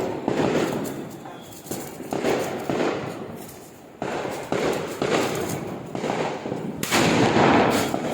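Diwali firecrackers go off nearby in a rapid series of loud bangs and crackling bursts, about one per second, with a sustained barrage toward the end.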